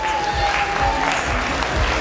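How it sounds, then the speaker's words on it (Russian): Audience applause at a Russian dance olympiad award ceremony, a continuous loud burst of many hands clapping in a hall with rhythmic low thumps underneath. "Ваши аплодисменты."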